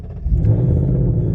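The engine of a modified 2024 Ford Mustang GT is running in a deep, steady, loud rumble with a low throb that holds for the whole moment. No voices are heard.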